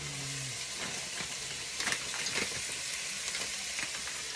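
Pork belly fries in a pan with a steady, close, bright sizzle and spattering crackle, and a few louder pops and stirring clinks partway through, without any talk.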